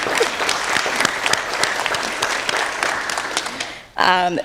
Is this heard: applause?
yes